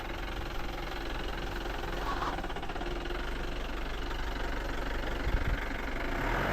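A Thar jeep engine idles close by, a steady low rumble with a constant even texture and no pauses.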